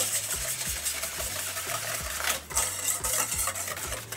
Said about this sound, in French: Dans un saladier, on va fouetter nos 4 œufs.